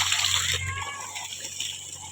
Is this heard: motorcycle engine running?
no